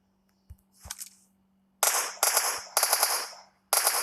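Automatic gunfire in a PUBG-style battle royale shooter, a gun left on full auto: four loud, close bursts of rapid shots with short gaps between them, after a couple of quieter shots at the start and no talk.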